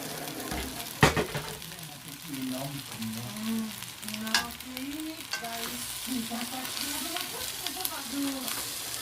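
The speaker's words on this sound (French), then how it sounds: "je vais mélanger les spaghettis dedans." Spaghetti being tossed and mixed in a hot pan, Creole style, with a continuous sizzle and occasional scraping knocks of the utensil, a few sharp clatters early on, with no talking.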